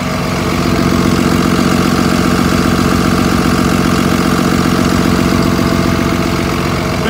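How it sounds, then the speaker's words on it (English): A Cummins diesel engine in a 2010 Freightliner Business Class M2 ambulance idles loud and close, holding a steady, smooth low rumble throughout with no talking. "It's got the Cummins diesel engine."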